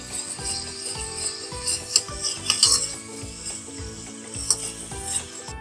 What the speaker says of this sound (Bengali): এগুলো আমি 1 মিনিটের মতন ভেজে নেব।